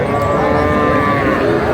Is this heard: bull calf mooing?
yes